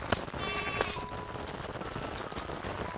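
Sheep bleat in the video game Craftopia, a short wavering cry near the start over a constant busy background of game noise and clatter.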